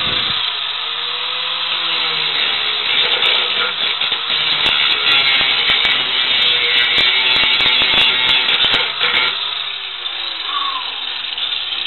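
A grinder works metal off a coil spring part on a Monte Carlo, giving a loud, steady, high whine close by that holds for about nine seconds before fading.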